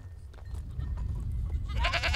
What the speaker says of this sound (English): There are several hundred goats in the herd